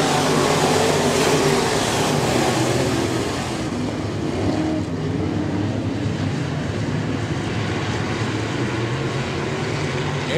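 Sport modified race cars at speed during a feature race at Raceway Park, a loud continuous engine roar with a gradual shift in tone as the cars pass, with no talk over it.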